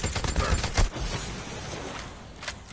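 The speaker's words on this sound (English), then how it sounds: "I'm gonna shoot around the area" Gunfire from thermite rounds in Call of Duty Mobile, a few sharp close shots early on, then a dense rolling wash of distant battle noise with another burst near the end.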